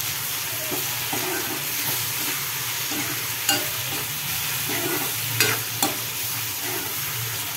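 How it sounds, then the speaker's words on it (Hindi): Crushed red chili is stirred into a mixture frying in a pan, a steady close sizzle with rhythmic scraping of a spoon and a few sharp knocks against the pan. "अब इसमें मैं मिक्स कर लूँगी अच्छे से।"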